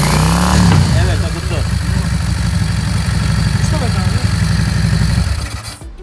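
A Yamaha Dragstar motorcycle with a faulty carburetor runs at a steady, throaty idle with light throttle blips, close and loud throughout before cutting off near the end, while people talk over it.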